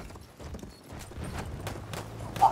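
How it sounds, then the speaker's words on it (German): A horse's hooves clip-clop in quick, muffled beats in the multiplayer shooter Battlefield 1, fairly faint against game ambience, with a brief louder thump near the end. "Boah, der hat mich, das scheiß Pferd."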